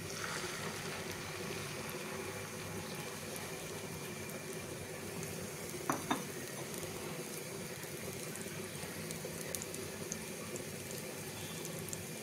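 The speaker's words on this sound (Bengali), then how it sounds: "তেল গরম হয়ে গেছে, এবার আমরা এটাকে ভেজে নেব।" Vegetables and egg frying in hot oil in a pan for a Bangladeshi vegetable omelette, a steady, even sizzle that runs unbroken throughout, with one or two brief clicks near the middle.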